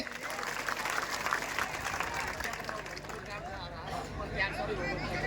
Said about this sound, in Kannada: ಆ ಗ್ರಾಮಸ್ಥೆಲ್ಲರಿಗೆ ಒಂದು ಜೋರ ಚಪ್ಪಾಳೆ ಹೊಡೀರಿ